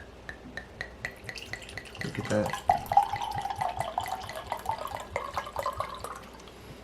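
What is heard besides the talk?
pouring Sugar Lips bourbon barrel wine into a glass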